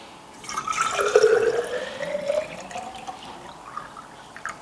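A drink poured into a vacuum-insulated thermos, a close liquid gurgle that rises in the middle and then tapers off into light drips.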